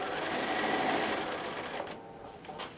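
A sewing machine stitching around the shape of a quilt-as-you-go cosmetic bag, a fast even mechanical whir up close that slows and eases off near the end.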